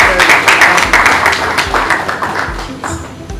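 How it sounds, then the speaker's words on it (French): Conference audience clapping in applause for an introduced official, a brisk dense patter of many hands, close and loud, fading slightly toward the end. "On peut applaudir"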